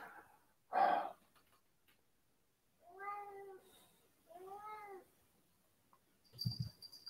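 A house cat meows twice in a quiet room, each call drawn out and clearly harmonic, with a soft breathy sound before and a faint thump near the end.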